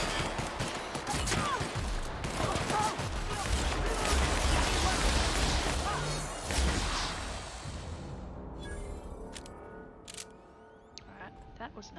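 Dense, rapid gunfire from a video game, crackling in continuous bursts at close range for most of the stretch before thinning out, with a player's voice talking over it.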